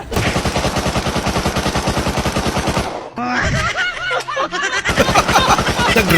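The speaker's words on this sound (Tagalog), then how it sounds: "Parang baril na nag-reload." Rapid, loud bursts of automatic gunfire in a video game, a brief pause with clicking and mechanical reloading, then another sustained volley of shots.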